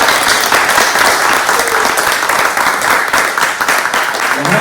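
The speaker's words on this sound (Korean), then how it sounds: "큰 박수로 여러분 축복해 주십시오." A church congregation applauds at a young adults' coming-of-age ceremony, a dense and loud sustained wash of clapping filling the room without a break.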